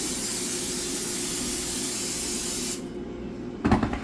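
Steady broadband hiss of cooking oil sprayed onto breaded chicken in an air fryer, continuous for nearly three seconds, then stopping, followed by a few close knocks and handling sounds.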